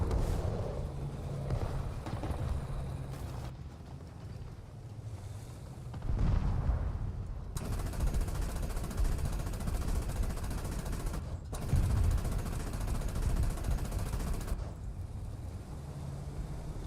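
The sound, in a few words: machine gun firing in the video game War Thunder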